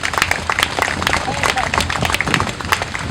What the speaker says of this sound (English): give yourselves a big round of applause for coming out and supporting a great nonprofit